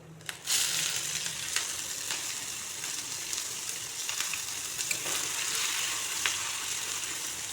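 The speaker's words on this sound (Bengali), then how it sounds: "গ্যাসের ফ্লেমটাকে কমিয়ে খুব সুন্দর করে পেঁয়াজগুলো ভাজতে হবে।" Chopped onions sizzle steadily in a pan over a lowered gas flame, with a constant close frying hiss and a few faint clinks, and no voices.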